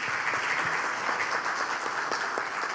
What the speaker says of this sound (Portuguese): eu peço uma salva de palmas para o nosso palestrante